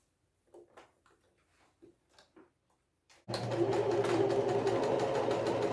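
After a few soft handling taps and low murmurs, a sewing machine starts up loud and continuous, whirring steadily as it stitches the corners of a basket liner.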